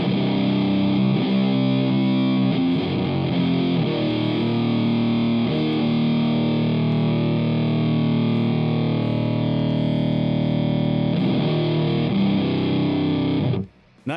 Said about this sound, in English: Let's hit it with some fuzz.